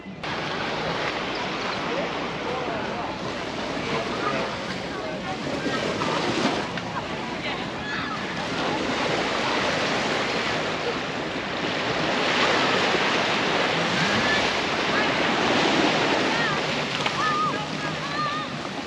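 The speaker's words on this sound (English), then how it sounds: "this is somewhere called Mullet Bay Beach" Waves wash onto Mullet Bay Beach in St Maarten, a steady broadband surf roar with wind buffeting the microphone, continuous and fairly loud throughout, with faint voices mixed in.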